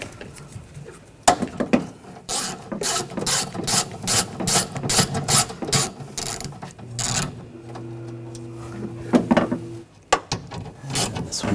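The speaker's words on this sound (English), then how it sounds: "Using a 10mm socket, take these bolts out." Ratchet wrench with a 10mm socket backing bolts out of a Nissan Rogue rear door during window regulator replacement, a rapid run of sharp clicking bursts up close, pausing briefly and resuming, with no talk.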